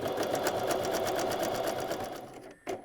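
A sewing machine sews a zigzag stitch on an elastic waistband, running steadily at close range, its rapid needle stitching humming evenly before slowing and stopping near the end.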